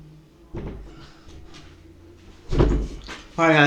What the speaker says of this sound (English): I had to shut my door